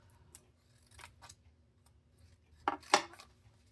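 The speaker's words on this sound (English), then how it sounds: "I'm just gonna snip, snip," Scissors snip through card stock at a stamping crafts table: several light cuts early on, then two louder, sharper snips close together near the end, alone without talk.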